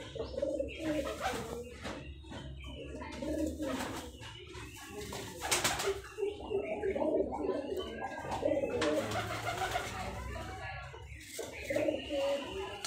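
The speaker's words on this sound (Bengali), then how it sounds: "এটা একটা নর কবুতর।" A male Girribaz pigeon coos in low repeated throaty rolls close by, among other birds in a local loft in Rajshahi, while someone talks over the cooing.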